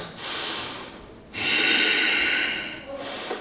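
Deep, loud breaths during a yoga flow: a long airy inhale, a short pause, then a longer forceful exhale close to the ear, with another breath starting at the end.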